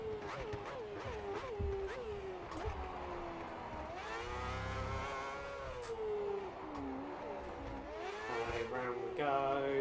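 An F1 2010 race car, an HRT at the Turkish Grand Prix in the video game, drones and shifts pitch as it drives into the pits, its engine whine rising and falling under a faint voice.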